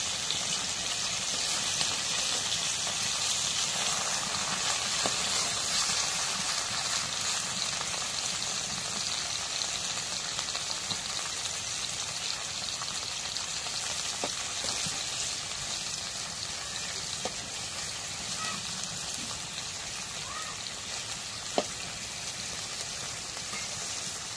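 Swarnaputi fish fry in hot oil in a pan, giving a dense, constant sizzle and crackle that runs unbroken throughout, with occasional small pops and no voices.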